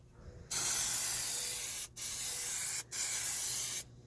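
An aerosol can lays a light first coat of Plasti Dip on the trunk of a 2016 Dodge Dart SXT outdoors in three close, steady hissing bursts separated by short pauses.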